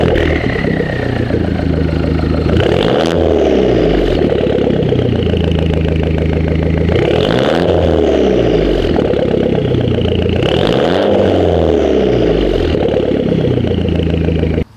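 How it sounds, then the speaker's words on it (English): A car engine idles loudly and steadily, its revs rising and falling in three or four repeated pulls over the low rumble, close to the microphone. "I'm going to give the car a few revs, see what it sounds like"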